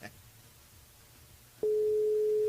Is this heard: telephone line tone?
yes